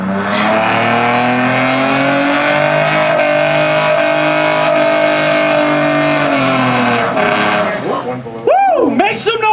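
An American muscle car does a burnout at a car show, its engine held at high revs in a loud, sustained roar. Tires squeal near the end as the revs swing up and down, and voices are heard over it.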